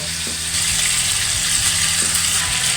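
Garlic pepper pork stir-fried in a wok with oyster sauce, a loud, dense, continuous sizzle with scraping stir strokes cutting through at intervals, very close.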